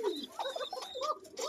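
A male Koka pigeon gives a thin-voiced cooing call in short, close warbling phrases, with no talk over it.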